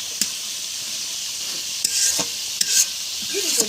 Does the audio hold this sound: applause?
no